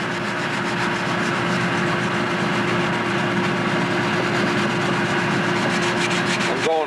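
Sandpaper rubbed over a Spitfire model part, a continuous loud rasping with a fast back-and-forth rhythm, alone, over a steady low hum.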